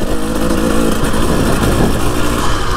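Husqvarna TE300i enduro motorcycle on a dirt trail, its engine revving steadily and loudly close by as the rear wheel spins up, with no talking.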